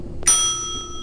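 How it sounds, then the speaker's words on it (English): A service bell in the Blade Runner video game is struck once with a sharp metallic ding. The bright tone rings on for most of a second before fading, with faint background ambience. "Just the bell."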